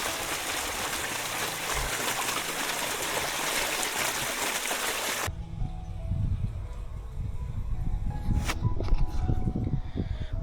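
Pumped irrigation water rushes and gurgles through furrows in an onion field, a steady close hiss of flowing water that shifts to lower, burbling trickling partway through.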